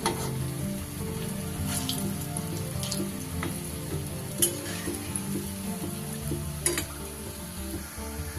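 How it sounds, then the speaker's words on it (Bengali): Raw banana muitha dumplings fry in oil on medium heat, giving a continuous crackling sizzle, broken by a few soft spatula scrapes and taps as they are turned in the pan. "এইগুলো আমার সুন্দর করে ভাজা হয়ে গেছে।"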